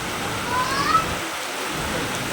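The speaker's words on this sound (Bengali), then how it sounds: "বৃষ্টি হচ্ছে, তখন প্রচুর পরিমাণে বৃষ্টি হচ্ছে" Heavy rain falls in Bangaon in a loud, continuous rush, with a brief faint rumble partway through.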